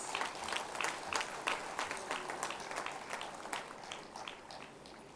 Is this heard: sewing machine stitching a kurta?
no